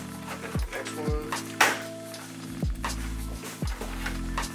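Plastic clips on a 2015–2020 Ford Mustang GT500-style front bumper cover snap into place, several short sharp clicks spaced about a second apart over a steady low hum.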